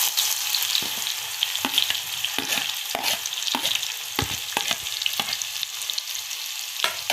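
Onion frying in hot oil in a kadhai over a high flame, with dense continuous sizzling and crackling plus scraping stir strokes, no voices.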